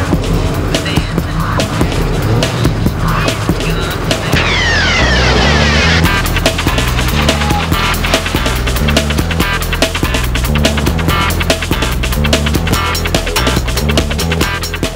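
Vehicles race flat out along the endless sand beaches of Washington State, giving a continuous loud engine roar with rapid clattering and a whooshing pass partway through, likely under music.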